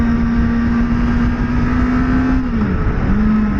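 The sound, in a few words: Kawasaki Ninja ZX-4RR motorcycle engine accelerating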